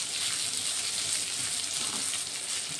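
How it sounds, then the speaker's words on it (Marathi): Moth bean sprouts sautéing in a pan, a steady close sizzling hiss with faint scraping as they are turned. "मी आता चांगली मटकी परतून घेते।"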